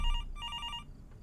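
A telephone in the horror game Fears to Fathom rings in a quick, bright electronic trill, two short bursts close together over a low background hum.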